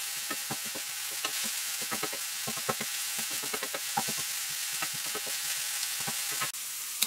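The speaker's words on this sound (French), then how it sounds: "Je continue à mélanger de temps en temps." Bell pepper sizzles steadily in a pan over medium heat, with repeated scraping and tapping strokes of a utensil stirring it now and then, close up and without talk.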